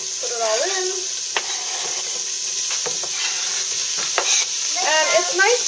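Onions and garlic sizzle in a pan while lasagna is being made. A steady, bright frying hiss carries throughout, with a few stirring scrapes, and voices speak briefly at the start and near the end.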